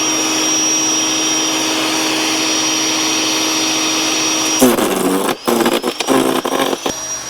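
An off-grid electric wood chipper running with a loud, steady whine, then roughening into uneven grinding and dips as branches are fed in and shredded.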